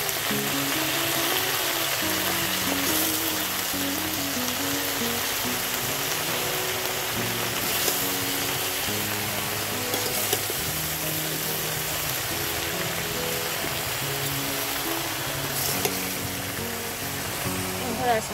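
Taro leaves with turmeric sizzling and being stirred in a frying pan over a clay stove, a steady crackling hiss throughout with someone talking over it and music playing softly.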